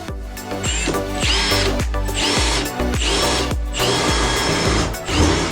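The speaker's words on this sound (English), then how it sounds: "So I place my 15mm Forstner bit in the drill chuck" A power drill spinning a 15mm Forstner bit bores holes through wood, with repeated loud whirring bursts starting and stopping in quick succession, close and alone with no talking.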